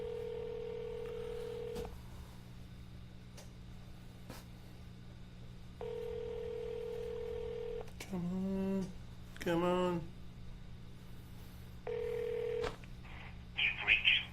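A telephone call is placed. Short electronic dial tones sound, then several warbling rings repeat at intervals over a low hum, and a voice mutters briefly.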